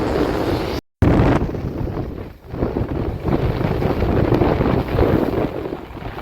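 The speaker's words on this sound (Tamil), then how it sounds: "அளவு தூரம் வந்து காற்று அடிக்குது" A storm wind in Jaffna, Sri Lanka, pushing sea water onto the road roars hard into the microphone as continuous loud buffeting, cut by a brief dropout near the start, then rushing steadily on.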